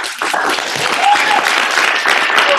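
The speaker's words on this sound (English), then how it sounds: "Let's give him a round of applause." Audience applause at a division meeting rings out steadily and loudly for a few seconds, dense clapping with faint voices mixed in.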